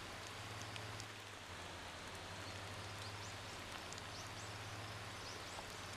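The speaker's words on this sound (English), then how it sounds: "And here comes the rain." Rain falls in the driving video game Motor Town, a soft, steady patter with a low hum underneath and faint scattered chirps.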